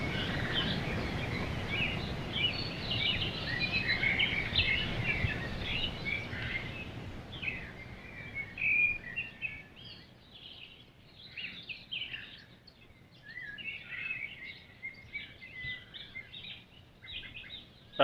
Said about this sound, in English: Just constant bird song.